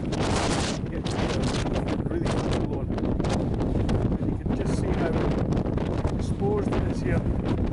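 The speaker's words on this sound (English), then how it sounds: "Quite windy." Strong wind buffets the microphone across an exposed hillside in the Cheviots, a loud, steady roar with gusty surges that fills the whole stretch.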